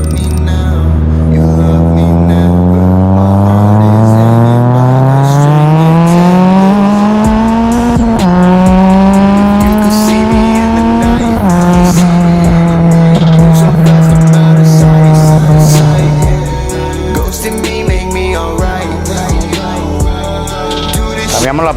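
A Toyota Tercel with a factory series E turbo engine revs hard through the gears, loud and close, its rising engine tone climbing, dropping at each shift, then easing off near the end.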